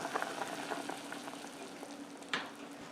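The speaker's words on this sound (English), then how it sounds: "We're at a boil." A pot of potato chowder with onion, thyme and bacon bubbles at a steady boil, a soft continuous burble close by with one brief louder pop, and no voices.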